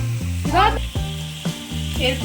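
Mustard fish curry sizzles and spits in a hot pan while being lightly fried and stirred, giving a steady crackle with brief scraping stirs and no voices.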